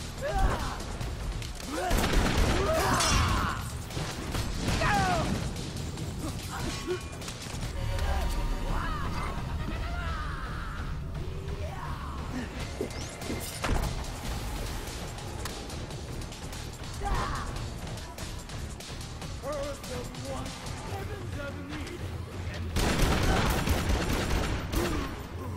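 Video game Dead Rising 3: repeated grenade explosions and bursts of gunfire-like crashes fill a busy scene, with loud bangs near the start and end, mixed under game noise and occasional voices.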